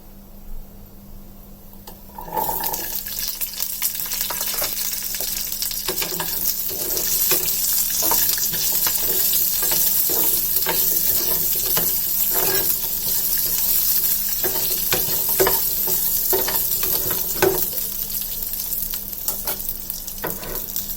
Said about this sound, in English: saute it until the onion gets translucent